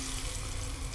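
Mackerel frying in oil on a gas stove gives a brief, steady sizzling hiss with a low rumble beneath, close up and moderately quiet, with no one talking.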